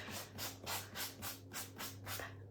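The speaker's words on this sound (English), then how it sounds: "I'm just grabbing a sanding block" A sanding block rubs back and forth across embossed two-tone cardstock in steady strokes, about eight soft scratchy swishes, close up with no voices.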